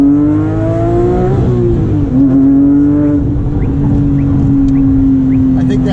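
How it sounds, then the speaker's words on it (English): A Porsche 997.2 GT3 RS accelerates hard along a straightaway, heard from inside the cabin. The engine note is loud and rising, dips briefly at a gear change, then climbs again as a strong sustained drone. "Now here's a little acceleration once we get to this straightaway here."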